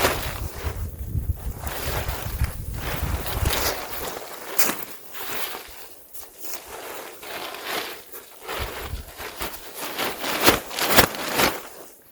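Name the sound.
wind blowing on a snowy trail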